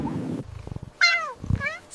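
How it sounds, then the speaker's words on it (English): A cat meows twice in a children's alphabet song, the calls sharp and close, with brief sung vocal bits around them. "C for cat."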